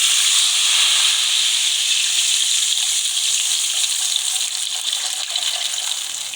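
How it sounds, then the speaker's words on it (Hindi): Water poured into a hot cooking pot holding chickpeas and spices on medium heat, giving a loud, steady hissing rush of steam and sizzle that slowly eases over several seconds, with no talk. "और अब इसमें पानी डाल दें"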